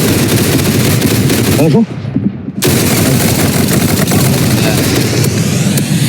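Rapid automatic gunfire rattles loudly and almost nonstop in the Roblox game Arsenal, breaking off for under a second before resuming, with a brief spoken exclamation in between.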